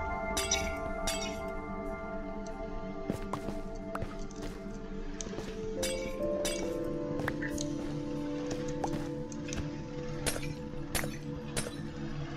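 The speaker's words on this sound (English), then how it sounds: "we've picked up some glowstone" Glowstone blocks being mined in Minecraft's nether: a steady run of bright glassy clinks and clatters, with sharp cracking hits recurring throughout over a busy game background.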